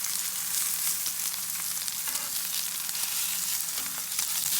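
A T-bone steak sizzles loudly and steadily in a very hot pan, a dense, crackling hiss with no pauses and no voices.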